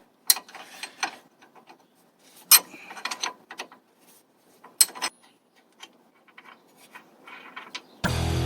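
Ratchet with a 10mm socket working on the suspension of a 2019 GMC Yukon during a leveling kit install: scattered metallic clicks and a few sharp clanks, close and fairly quiet, ending in a burst of broadband noise.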